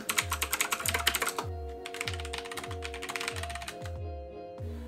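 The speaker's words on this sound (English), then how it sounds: "This model sports the Zorro Brown Switches, which of course offer the mechanical feel, but no audible click like on blue switches." Fast, steady typing on a Velocifire TKL wireless mechanical keyboard with Zorro Brown switches, a close run of quiet, dense tactile clacks with no clicky sound, heard on its own.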